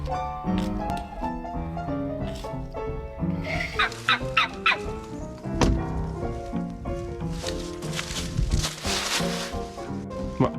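Wild turkeys gobble repeatedly in loud, rattling bursts, several birds close by calling over one another.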